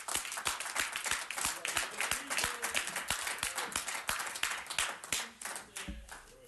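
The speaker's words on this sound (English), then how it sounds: "I want to give applause to you guys." An audience at a police commission meeting claps together in a steady, fairly loud round of applause that runs for several seconds before thinning out at the end.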